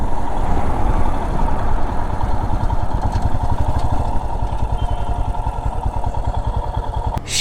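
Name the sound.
motorcycle engine running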